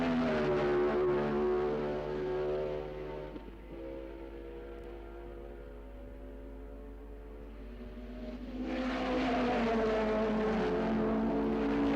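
Several 1963 Formula One race cars, a Ford-engined Brabham, a Porsche and a four-cylinder Lotus, drone around the Imola circuit, engines rising and falling in pitch as they pass, loud then briefly quieter before swelling again; no talk.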